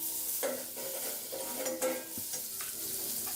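Butter is stirred in a hot pot for sweet corn vegetable soup, giving a soft, steady sizzle with intermittent spatula scrapes and light clinks, heard close up with no voices.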